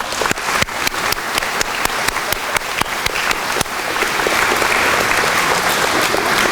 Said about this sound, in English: And one more time, let's give them a round of applause.